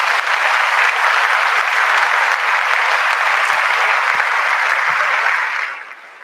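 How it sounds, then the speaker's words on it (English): Sustained applause from an audience at a staff end-of-year celebration, steady and dense clapping for several seconds before tapering off at the end. "Let's give Jeff a round of applause."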